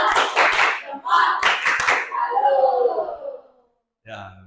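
Schoolchildren in a classroom do a patterned 'tepuk salut' clap: quick rhythmic bursts of hand claps mixed with chanting voices, tapering off into quiet before a brief voice at the end.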